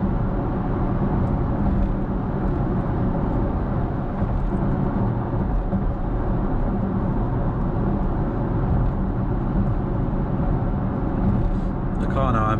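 A 2022 Kia EV6 GT Line S electric car cruising on the motorway with regenerative braking off, heard from inside as a steady, loud broadband road and wind rumble that stays constant throughout.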